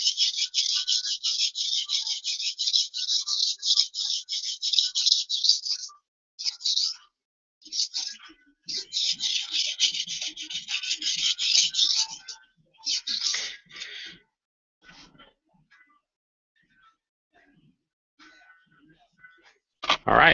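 Steel blade stroked across a sharpening stone with light pressure, giving repeated rasping scrapes in bursts, steady at first, then shorter and sparser strokes with pauses, close and fairly quiet.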